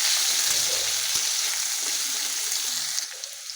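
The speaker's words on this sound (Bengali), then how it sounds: "এবারে দিয়ে দেবো আলু, অল্প একটু হলুদ দিয়ে এটা ভালোভাবে নেড়ে" Potatoes with a little turmeric fry in a pan with dried red chilli and a bay leaf, giving a steady close sizzle broken by occasional scrapes as they are stirred.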